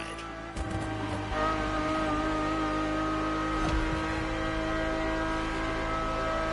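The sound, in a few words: car engine heard from inside the car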